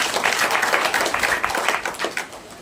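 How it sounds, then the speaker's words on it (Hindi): Audience applause at a Hindi religious discourse (satsang pravachan), a sustained wash of many hands clapping at steady loudness with no voices over it. "ताली बजाइए"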